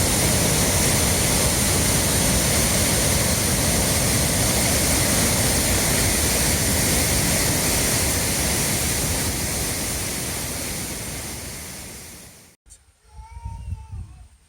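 Waterfalls in Africa pour as a loud, dense, continuous roar that gradually softens before cutting off abruptly near the end, giving way to faint indistinct sounds.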